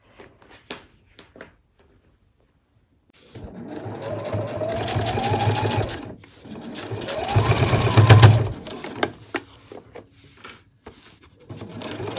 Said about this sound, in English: And then we'll sew all the way along there with a 1 centimetre seam allowance.